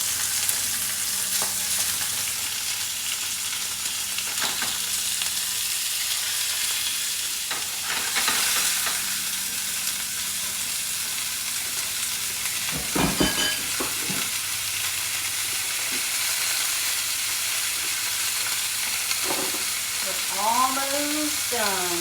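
Seasoned meat sizzles steadily in a hot frying pan in a home kitchen, with occasional clinks and scraping of a utensil and a brief faint voice near the end.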